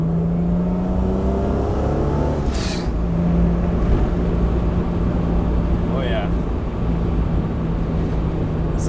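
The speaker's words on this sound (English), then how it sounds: "Quick downshift, rev match." A V6-swapped Mazda Miata making about 230 hp revs through a quick rev-matched downshift, then drones steadily under load from inside the cabin, with a voice speaking briefly over the engine.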